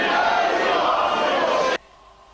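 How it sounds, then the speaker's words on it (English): Wrestling crowd at an indoor event jeering a wrestler, a loud dense roar of many voices that cuts off abruptly near the end. "And the crowd are getting on Hayden Vanson."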